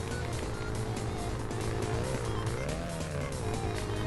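A light turbocharged Toyota Celica with about 258 horsepower drives in the BeamNG racing game, its engine droning steadily with pitch rising and falling as it accelerates and shifts.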